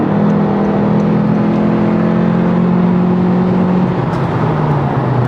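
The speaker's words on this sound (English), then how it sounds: "what it sounds like with just the intake in the car" A 2022 eleventh-generation Honda Civic runs with only its intake fitted and the exhaust valve closed, giving a steady, loud droning engine tone that holds even and sags slightly near the end, with no talking.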